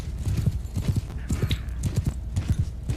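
Cavalry horses in the Mount & Blade II Bannerlord video game gallop with rapid, rolling clip-clop hoofbeats, a steady dense rhythm of many hooves pounding close and loud throughout.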